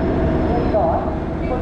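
An Indian AC express train from Haridwar to Lokmanya Tilak Terminus arriving at Hazrat Nizamuddin station in Delhi, with a loud, continuous rolling rumble and a brief squealing tone as it moves.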